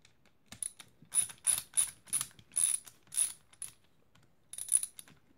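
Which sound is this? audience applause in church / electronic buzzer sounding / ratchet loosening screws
ratchet loosening screws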